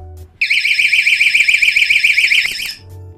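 A door security alarm set off by moving its magnet sensor shrieks very loudly and close by, a rapid warbling tone that holds for over two seconds and then cuts off abruptly.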